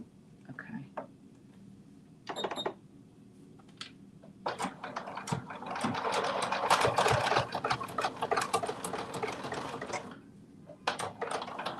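Fabric is stitched down on a sewing machine in short, uneven bursts of needle clatter, close and moderately loud, with brief pauses and a person speaking at the start and end.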